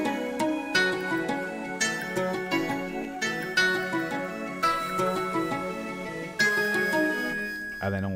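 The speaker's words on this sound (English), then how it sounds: "So then all together, the synths sound like this." Several synthesizers play a layered chord pattern together, with repeated rhythmic stabs and sustained tones in a steady, looping groove.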